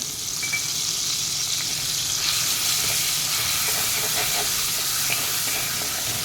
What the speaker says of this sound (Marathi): आणि आता याच्यामध्ये किसलेली ही कैरी घालूया